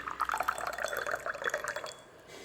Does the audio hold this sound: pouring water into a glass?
yes